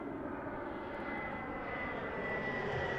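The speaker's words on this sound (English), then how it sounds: "And we have a smaller plane coming in." A smaller plane comes in to land at Las Vegas Harry Reid International Airport, its engine giving a steady, continuous roar throughout with no voices.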